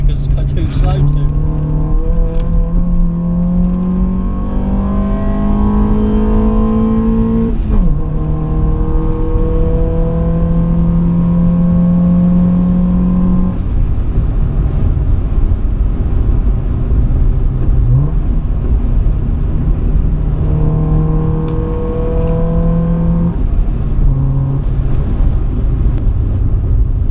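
A Honda Civic with a D-series engine driving through bends, its engine note rising and falling steadily through several gear pulls with steady wind noise, loud and close from inside the car, with a voice talking over it.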